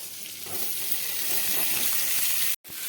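Paneer pieces fry in melted butter in a kadhai, giving a loud, even, close sizzle that hisses steadily and cuts out briefly near the end. No one speaks.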